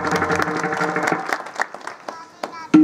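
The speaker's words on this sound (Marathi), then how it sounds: "एकदा जोरदार टाळी वाजवा." Brief, scattered clapping from a village gathering audience mixes with an amplified voice and loud hall sound, fading in and out over a few seconds.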